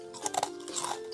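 Crisp crunching bites into a fried potato latke, a few sharp crackly chews close to the mic, with a steady low hum underneath.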